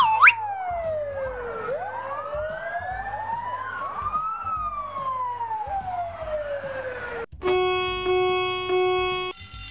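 A fire truck siren sweeps up and down in a long wailing cycle, fairly loud, followed by a brief blaring horn-like tone.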